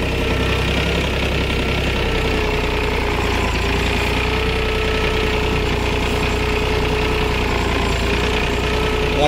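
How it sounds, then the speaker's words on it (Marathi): Mahindra OJA 2130 tractor engine running unloaded in first gear, a steady, close, continuous diesel chug with a rhythmic knocking pulse throughout. "RPM वर ट्रॅक्टर चालत आहे. हायवर ट्रॅक्टर आहे, लोड गिअरवर नाही. फर्स्ट गिअर टाकलेला आहे"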